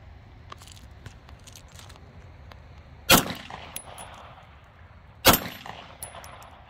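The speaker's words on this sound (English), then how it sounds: "Gonna shoot at this target" Two sharp, loud gunshots from a Rock Island Armory 1911 9mm pistol at an outdoor target range, spaced about two seconds apart, each with a brief ringing echo over faint background noise.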